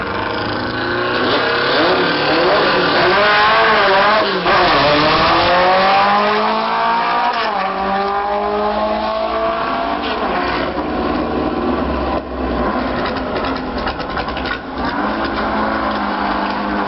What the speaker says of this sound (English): rother Mark, Brother Paul, and Ron Flemming, three of the great legends right now in the cars on the starting line